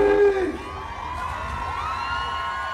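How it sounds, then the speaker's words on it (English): A live concert crowd at an OUT in South show screams and cheers continuously, loud and dense, with a single voice briefly standing out at the start before blending into the sustained roar. "somebody scream!"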